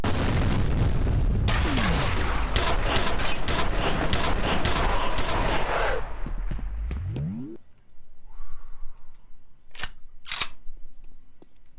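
Grenade explosions and gunfire from the video game F.E.A.R. produce a loud, dense barrage of booms and shots for several seconds, then fade into a quieter rumble with a few faint bursts.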